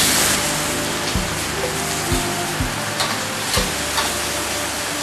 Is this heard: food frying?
yes